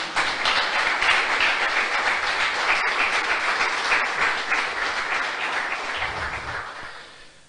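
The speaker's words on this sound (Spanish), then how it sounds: "Ahora le puede dar un aplauso al Señor" A church congregation applauds, sustained dense clapping from a large group that holds steady and then tapers off near the end, loud and close.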